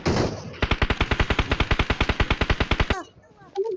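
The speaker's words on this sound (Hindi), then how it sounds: "फायर देते रहो, फायर देते रहो।" A shooter video game in the style of Free Fire fires a rapid automatic burst of about twenty evenly spaced gunshots. The burst is loud and close, then stops abruptly.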